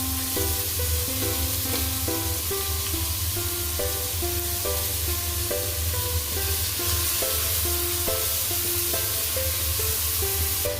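Garlic sizzles steadily as it fries in a pan, a continuous bright crackling hiss heard throughout beneath loud, melodic background music.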